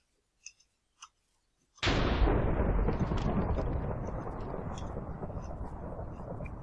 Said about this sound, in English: That lightning is really annoying.